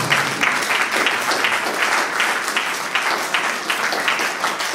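Sustained applause from a church congregation, dense and steady clapping from many hands at moderate distance, continuing without a break.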